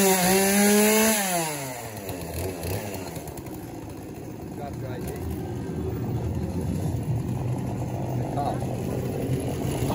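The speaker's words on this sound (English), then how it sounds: "Chainsaw dude just jumped out here." A chainsaw revs inside a haunted maze at a theme park's Halloween fright event, sweeping up in pitch during the first second and then running loud and busy beneath a crowded, noisy background with some voices.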